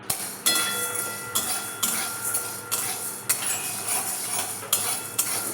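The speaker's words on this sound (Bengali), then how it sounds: "এবার কড়াইতে ছোলার ডাল আর বাদামটা কাঠ কলায় নেড়ে নেবেন।" Chana dal and peanuts being stirred in a kadai with a wooden spatula, giving a run of sharp, regular clinks and scrapes about once a second over a dry rattling bed.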